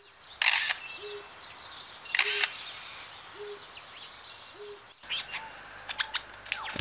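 An Australian bird mimics a photographer's camera shutter, giving several short repeated clicks and chirps at steady intervals, with varied whistled calls afterward against a quiet outdoor background.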